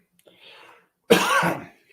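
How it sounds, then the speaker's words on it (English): A single close, loud cough burst with a throat-clearing rasp, caused by sinus drainage running down the throat, preceded by faint breathy murmuring. "This sinus drainage is really killing me. It's just going down my throat and making me cough at times."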